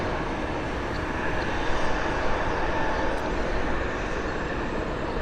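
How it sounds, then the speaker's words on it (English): Jet engine roar from a Boeing 747 at Cleveland Hopkins airport, a steady broadband rumble held at constant loudness throughout, with a slight swell near the middle and no voices. "we should be able to get some of the jet noises for you"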